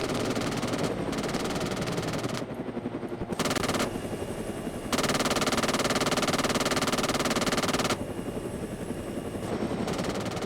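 Drone in a video game firing its cannons: loud, rapid, steady automatic fire over a continuous rotor-like drone hum, running unbroken for about ten seconds with a few brief dips.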